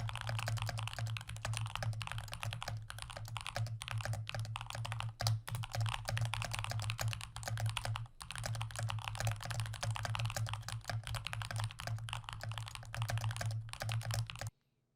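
Steady, rapid clacking of keys on a Moondrop Dash mechanical keyboard, typed continuously for about fifteen seconds at close range with a low steady hum underneath and brief pauses between bursts.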